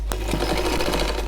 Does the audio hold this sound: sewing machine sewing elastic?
yes